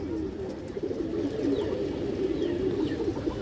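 Low, soft pigeon cooing murmurs continuously, with faint bird chirps above and a steady background hum.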